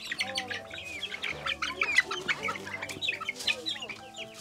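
Several cage-free chickens on a farm in Cebu cluck and chatter nearby in a busy, overlapping stream, with some higher chirps mixed in.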